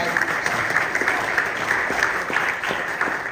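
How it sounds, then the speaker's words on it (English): An audience at a candidates forum claps steadily, a moderate round of applause filling the room without cheering. "That deserves some round of applause."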